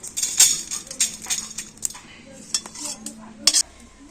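Lightly fried spices being scooped out of a pan with a metal spoon, giving sharp clinks and scrapes against the metal. The bursts are irregular and close, with quieter stirring rustles between them.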